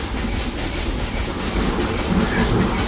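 A mountain train runs on rails near Coonoor with a steady, loud rumble, rhythmic clatter of wheels and an even hiss, heard up close with no talking.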